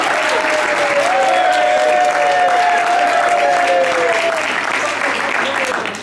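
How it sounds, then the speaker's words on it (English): Loud, steady applause from a large crowd fills the whole stretch without letup, with a sustained tone ringing through it and fading slightly at the end. "ladies and gentlemen, could we have your applause now?"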